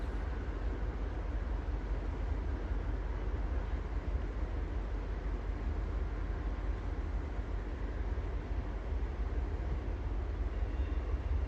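A heavy eastbound Union Pacific freight train on the La Grande Subdivision rumbles past steadily, a continuous low roar with broadband rail noise that never lets up.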